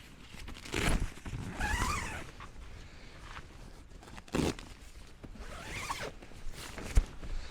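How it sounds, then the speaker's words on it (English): A tent zipper is drawn closed in several quick pulls, each a rasping burst with brief pauses between, close by and loud with faint rustling. "let's zip this down so no bugs get in."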